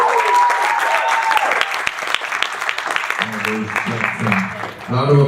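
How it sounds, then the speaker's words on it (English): An audience at an international engineering student conference claps for an award winner coming out, steady loud applause filling the hall, with a few voices and some low murmuring near the end. "Round of applause to him as he comes out."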